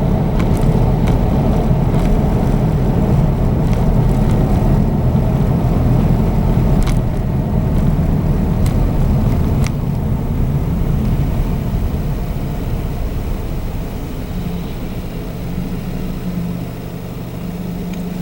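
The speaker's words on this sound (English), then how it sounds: "You can get an idea for the road noise" Steady road noise inside a 2021 Toyota Corolla SE CVT on snow tires, a broad, constant tire roar and hum at cruising speed that slowly softens as the car slows near the end.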